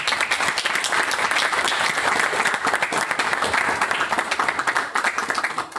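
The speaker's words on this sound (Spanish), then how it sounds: "les pido un aplauso de un posible." An audience at an environmental-noise seminar applauds its four panelists with continuous, close, vigorous clapping that holds strong for the whole stretch, with no one speaking over it.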